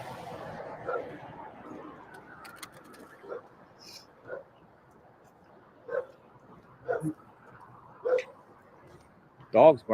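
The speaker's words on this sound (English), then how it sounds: "Dog's barking." A dog barks in the distance outdoors near a bowling alley in Hendersonville, several short, separated yips and barks spread across the stretch. Quiet speech can be heard early on.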